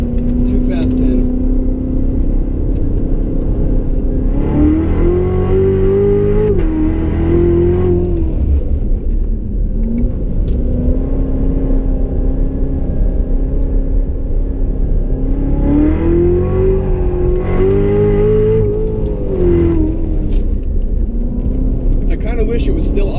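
A Chevrolet Corvette Z06 with the Z07 package and automatic gearbox is driven fast around a figure-eight track, its loud engine rising and falling through two strong acceleration surges, close and continuous, with a person talking over it.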